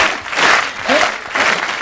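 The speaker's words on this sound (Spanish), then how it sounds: "Otro aplauso, por favor, para ellas" A conference audience claps loudly and close in rhythmic bursts, swelling in three waves of roughly half a second each, like cheering applause at an event.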